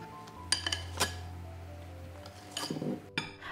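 A spatula or utensil clinking against a bowl while meringue is folded into angel food cake batter, a few sharp metallic clinks and light scraping over a steady low hum.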